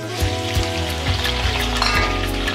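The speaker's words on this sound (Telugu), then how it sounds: "కాబట్టి మనం ముందుగా మునక్కాడలు అనేవి వేయించేసుకుందాం." Drumstick pieces fry in hot oil, giving a dense, steady sizzle and crackle close up, with light clinks from the pan and no speech.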